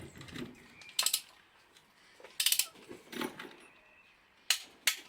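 Torque wrench set to 60 Nm ratcheting on an Audi A3 ASZ TDI engine during restoration, giving several short bursts of sharp clicking separated by quiet gaps, close and crisp.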